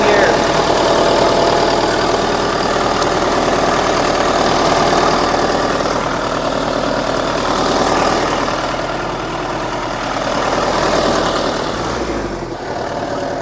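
A 15-year-idle Case 450 bulldozer, revived with a new fuel filter and return line, idles in a low, steady diesel chug after a small throttle bump, close and loud, dipping briefly near the end.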